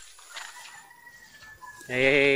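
Chickens cluck and squawk nearby in an isolation pen for sick birds, ending in a loud, drawn-out call from one bird.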